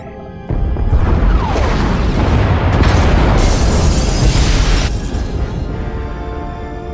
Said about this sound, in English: Pod bays are destroyed.